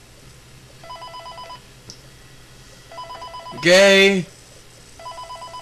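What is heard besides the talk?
phone ringing in Five Nights at Freddy's 3 video game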